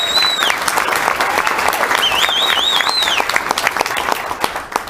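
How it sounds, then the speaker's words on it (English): Banquet audience at the 2017 Lucas Oil racing awards dinner breaking into a big round of applause, dense steady clapping from a large crowd filling the room, with a few whistles rising above it. "How about a big round of applause"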